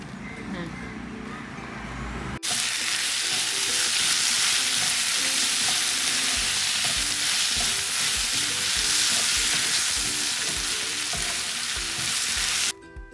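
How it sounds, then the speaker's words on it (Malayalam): Onions sautéing in a pan for a home cake-bakery kitchen burst into a loud, steady sizzle after a quiet start with voices, hissing continuously with soft rhythmic stirring scrapes until it cuts off near the end. "അങ്ങനെ ഇപ്പോൾ ഇതാ ഈ ഒരു ഉള്ളി വാട്ടിക്കൊണ്ടിരിക്കുന്നത്"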